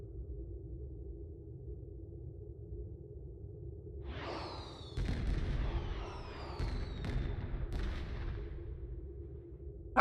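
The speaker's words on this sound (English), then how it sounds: "I love having the fireworks button" Video game fireworks from Star Trek Online launch with a rising whoosh, then pop and crackle in several sharp bursts over a low steady background hum.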